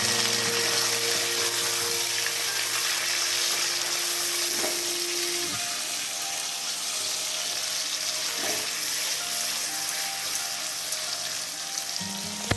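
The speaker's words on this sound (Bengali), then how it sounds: "পনিরগুলোকে একটু কষিয়ে নিই" Paneer cubes sautéing in a pan with green chillies and bay leaf, a steady broadband sizzle and frying hiss running throughout at close range, with a few faint clinks of stirring and no talking.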